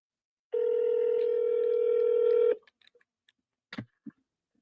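A telephone dial tone on an outgoing call holds steady for about two seconds, then a few brief clicks and tones follow, close and clear against near silence.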